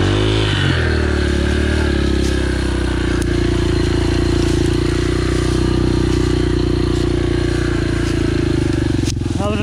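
Yamaha TTR 125 dirt bike grinding over tree roots on a hillside trail, its engine droning loud and steady up close with clattering and scraping from the terrain throughout.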